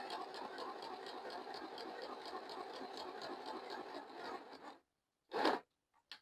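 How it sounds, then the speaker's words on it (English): A small sewing machine with plastic gears runs at close range with a rapid, raspy, pulsing whir for several seconds, then stops, followed by a short bump and silence. "if you can hear it, you can tell it's plastic gears"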